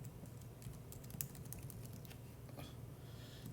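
Computer keyboard keys tapped in a short irregular burst, including a press of the tab key, quiet and close against a steady low hum, with no voices.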